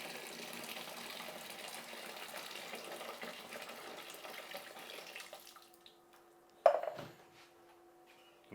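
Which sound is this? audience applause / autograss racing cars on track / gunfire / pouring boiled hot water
pouring boiled hot water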